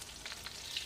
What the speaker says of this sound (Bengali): এই তো এখানে আমার মাছ ভাজাগুলো হয়ে গেছে, আমি এখন উঠিয়ে নেব তেলের মধ্য থেকে